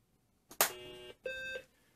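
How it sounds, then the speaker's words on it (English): A BBC Micro Model B computer, plugged into a television, sounds two electronic startup beeps at power-on: a longer tonal beep followed by a shorter second one, clear and alone. "And there's the two beeps."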